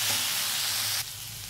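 Mashed cauliflower fries in a pan, a loud, close, steady sizzle that drops abruptly to a quieter hiss partway through, with no talk.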